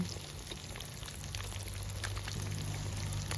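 Fish sauce poured into a Shan-style stir-fry of instant noodles with egg: a soft, steady liquid trickle over a low kitchen hum, faint and unbroken for a few seconds.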